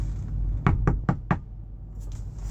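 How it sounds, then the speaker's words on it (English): Four sharp knocks on a door in an even rhythm, fairly close and clear over a low room hum, with no talking. "Did I just hear the door knock?"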